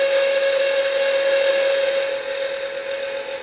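A parting tool cuts into a wooden honey dipper spinning on a wood lathe, giving a steady high whine with a strong constant tone that eases slightly toward the end, heard alone.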